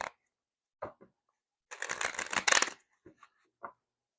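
Quick riffling bursts of tarot cards being shuffled, a few short snaps followed by one longer flurry, close and otherwise quiet.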